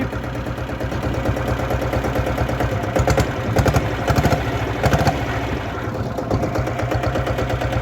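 A diesel Royal Enfield Bullet motorcycle engine, a rare 6.5 bhp vintage bike, runs steadily at a loud, near idle with a throbbing low rumble and a few stronger bursts partway through.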